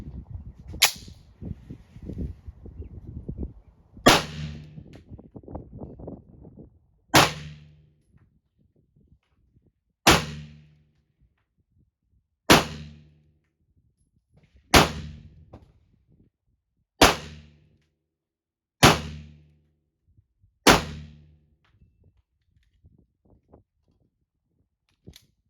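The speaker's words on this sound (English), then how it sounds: "going in with our 10 rounds of the Remington 115 grain" Remington 115-grain 9mm rounds fired during outdoor velocity testing, sharp loud single shots spaced a few seconds apart, about eight in all, each with a short ringing decay, after a few seconds of rustling handling noise.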